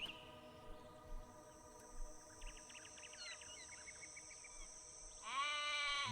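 Sheep in the video game Black & White bleat faintly over a quiet ambient backdrop, a brief chirping flutter midway, then one louder, nearer bleat near the end.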